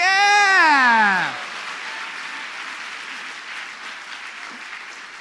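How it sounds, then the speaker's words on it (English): A London comedy event audience applauds the tech guy, a steady spread of clapping that carries on after a loud, descending whooping cheer opens the moment. "It's a good time for a round of applause for David, our tech guy."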